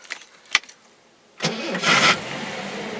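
A Jaguar XJ-SC engine cranks and catches after a sharp click, then settles into a steady idle, loud and close.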